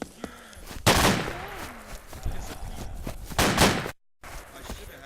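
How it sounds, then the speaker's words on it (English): Gunshots in ARMA 2 crack out in a couple of loud clusters among scattered smaller bangs and faint movement, with a brief total silence near the end. "Who's shooting? Who's shooting?"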